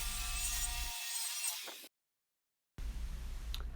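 A circular saw trims wooden tabletop boards with a bright, harsh cutting whine that runs for about two seconds and then stops abruptly.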